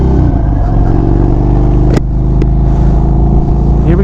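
A 2025 Indian Springfield Dark Horse motorcycle engine running during a ride, a loud, steady, close low rumble with a brief click partway through.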